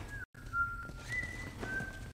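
Whistling in The Last of Us, heard as a sustained steady tone that rises and dips in pitch across a couple of seconds, moderately loud over a low background rumble, with a brief silent gap early on.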